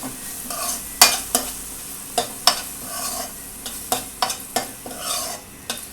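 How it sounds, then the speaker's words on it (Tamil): Tomatoes sautéing in a pan for Indian-style masala macaroni pasta: a steady frying hiss broken by about eight sharp scraping strokes of a stirring spoon, close and fairly loud, with no voices. "தக்காளி வந்து நல்லா வதங்கணும்."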